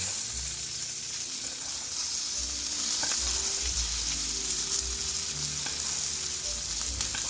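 Steak frying in a hot pan with garlic and rosemary, being basted with fat spooned over it; a constant bright sizzle with soft spoon scrapes and splashes, close and moderately loud, no voices.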